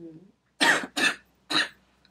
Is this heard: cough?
yes